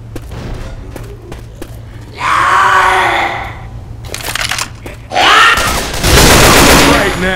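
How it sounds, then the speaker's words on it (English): Pipe bomb blasts in a first-person shooter match, two heavy bursts of explosive noise breaking over a low steady game hum, with a louder, longer detonation near the end. "Pipe bomb."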